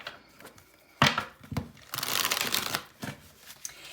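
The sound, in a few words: shuffling a tarot card deck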